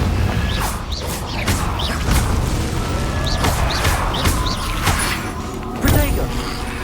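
A Confringo blasting spell fired repeatedly in Hogwarts Legacy, several loud explosive bursts and whooshes landing one after another amid busy game effects.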